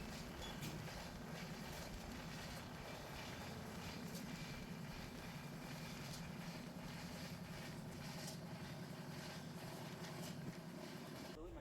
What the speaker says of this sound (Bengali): আমাদের ট্রেন এখন 110 কিলোমিটার বেগে ছুটে চলেছে তার গন্তব্যের দিকে।